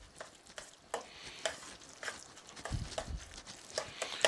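A spoon stirs a mozzarella cheese stuffing mixture in a bowl for Italian stuffed shells, giving soft, irregular scraping and squishing strokes at close range, fairly quiet and without talk.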